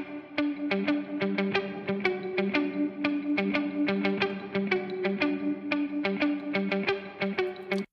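A bass line played through the Waves Magma Springs spring reverb plugin, with punchy, evenly spaced plucked notes repeating in a steady rhythm that carry a sustained low tone and a distorted, effected tail.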